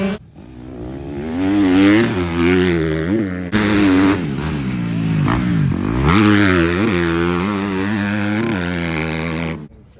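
A vehicle drives under power through puddles on a ranch on a rainy day, its engine revving and surging up close with rattling and scraping, continuous for ten seconds.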